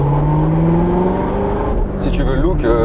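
Manual Corvette C7 Z06 sports car engine droning steadily while driving, a loud close cabin hum with shifting pitch, overlaid by people talking throughout.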